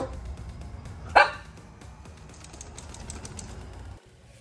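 A single sharp bark from a dog rings out nearby, brief and loud, then quiet room noise follows.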